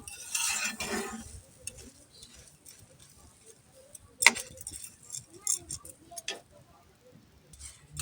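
Sparse sharp little pops and ticks crackle irregularly from wheat grains roasting in a pan, with a soft rustle at the start.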